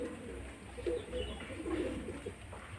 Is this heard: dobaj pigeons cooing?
yes